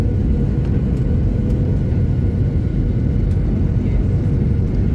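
An airplane coming in to land, a steady low rumbling whir of engine and cabin noise, continuous and even throughout without any talk.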